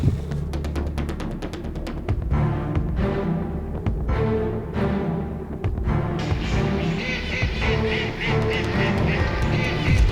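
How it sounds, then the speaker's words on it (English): Ducks quack repeatedly and fairly close during a North Dakota waterfowl hunt in a blizzard, the calls scattered over a steady roar of wind and blowing snow. "Ducks!"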